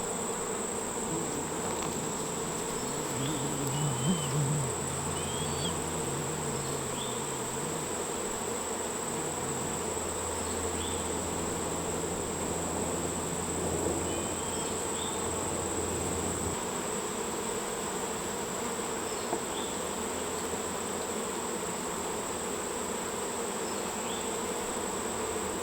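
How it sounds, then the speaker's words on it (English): Dense, steady buzzing of agitated honeybees swarming close around an open hive during an inspection, a continuous insect drone with individual bees zipping past. "So these bees are pretty agitated right now."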